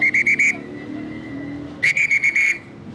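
Sharp, piercing whistling used as a lookout signal outdoors: a quick run of four short blasts, a pause, then five more in a rapid pattern, loud and close.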